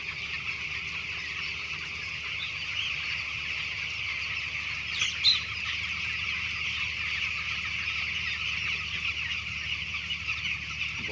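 Broiler chickens clucking steadily on a poultry farm in an Odia village, a dense continuous flock murmur with one brief louder squawk near the middle, no talking.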